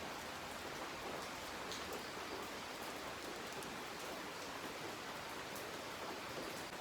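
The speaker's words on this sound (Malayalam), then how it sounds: "അപ്പം പുറത്ത് ഫുൾ മഴ." Heavy monsoon rain pours down outdoors in Kerala as a steady, dense hiss of drops hitting surfaces, uniform and unbroken throughout, with no speech.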